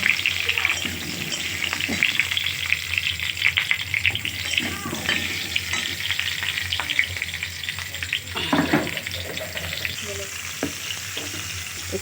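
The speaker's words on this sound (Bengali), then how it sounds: "এবার আলুটাকে ভেজে নেব।" Potatoes fry in oil in a wok, a loud, continuous close sizzle with occasional scraping and stirring sounds running through it.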